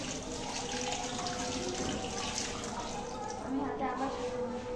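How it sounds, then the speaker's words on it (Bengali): Tap water runs steadily into a sink while hands are washed, a continuous splashing hiss throughout, close by, with a voice speaking over it. "প্রত্যেকটা আঙুল আমি সুন্দর করে ধুয়ে নেব।"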